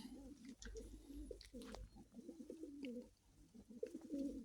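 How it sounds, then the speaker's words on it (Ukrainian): Several pigeons coo in low, throaty, rolling phrases, close and overlapping, with soft rustles and faint chirps in between. "Ось такі у нас мастьові голуби."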